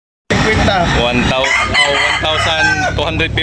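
A rooster crows once, loud and close, a long drawn-out call at a backyard chicken sale in Cebu, heard alone without talk.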